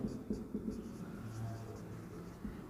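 Soft pen or pencil strokes on paper, faint and steady over a low background hum, as a geometry answer about non-collinear points is written out.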